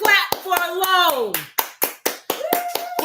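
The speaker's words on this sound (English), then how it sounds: "Claps for everybody." A few people clap at a cooking show making sweet and spicy glazed chicken, sharp separate hand claps in an uneven rhythm, heard close up under and between cheerful talking voices.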